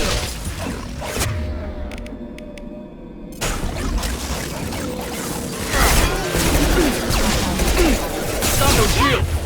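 Combat in Mass Effect 2 at a colony under attack by mechs: loud, dense gunfire and crashing impacts that build over a dense game soundtrack, with a brief quieter lull early on.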